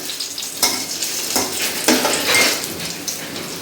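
A young girl stirs fenugreek leaf bhaji in oil with onion, garlic and chili: close sizzling with repeated spatula scrapes and clinks against the pan, no voices.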